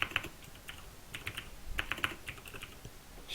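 Quiet, irregular bursts of keystrokes on a computer keyboard, clustered in short runs with small pauses, close and soft with no voices over it.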